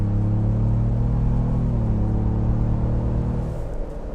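A 2021 Ford Bronco Wildtrak engine pulls hard uphill at about three-quarter throttle, a loud, steady low rumble whose pitch shifts slightly as it climbs before easing off near the end.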